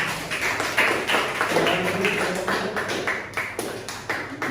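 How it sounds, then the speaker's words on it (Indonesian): Students in a classroom clap for a presenting group, a brisk burst of uneven, overlapping hand claps that stays close and lively before thinning slightly toward the end, with no talking. "Boleh tepuk tangan untuk kelompok 3."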